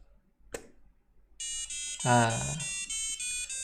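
A sharp click, then a steady electronic buzzer tone on a Maker Pi Pico microcontroller board running CircuitPython pulses rapidly in a regular beeping pattern while someone speaks briefly over it.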